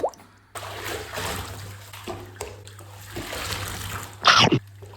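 A cannonball jump into outdoor water ends in one loud, close splash near the end, after several seconds of softer sloshing, trickling and dripping, with a faint steady hum underneath.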